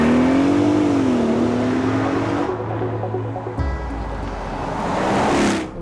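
A Porsche Cayenne GTS V8 engine revs loud and close, a deep droning note rising and falling before dropping into a rumbling idle, then swelling again at the end.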